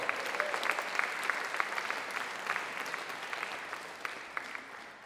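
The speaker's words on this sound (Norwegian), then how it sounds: "Gi dem en ny runde av applaus." An audience at a jazz concert in Oslo gives a fresh round of applause, a dense, even crackle of many hands clapping throughout.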